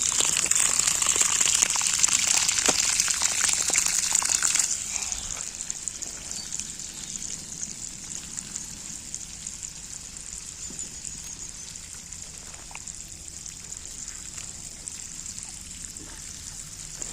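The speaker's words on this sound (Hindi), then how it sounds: "तो यहाँ पे पानी चल रहा है" Water gushing from a tap onto a bed of fenugreek plants, a loud splashing hiss at first that settles into a softer, steady trickle and patter on leaves and soil.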